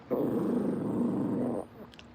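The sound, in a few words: dog growling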